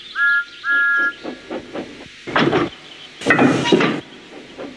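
Cartoon steam engine Thomas giving two short whistle toots, then a series of chuffing puffs and loud bursts of hissing steam, close and clear with no talk.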